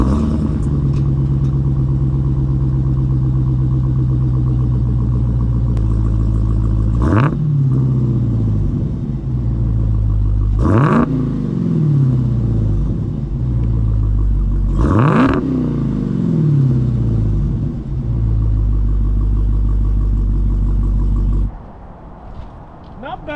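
A 2018 Dodge Demon's supercharged V8 revving, three sharp throttle blips rising from a deep steady idle and dropping back, loud and close, with the engine cutting off near the end.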